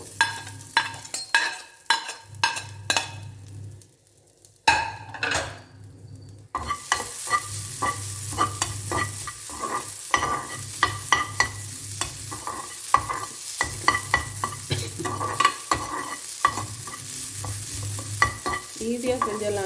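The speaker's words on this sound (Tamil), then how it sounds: "இதுலேயே வந்து அந்த புளியும் தேங்காயும் வறுத்துருவோம்." Tamarind and grated coconut being dry-roasted in a pan for a wedding-style sambar, with rhythmic spoon scraping and stirring over a soft sizzle; a brief quiet gap comes before steadier frying noise resumes.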